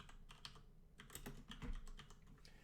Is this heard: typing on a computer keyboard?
yes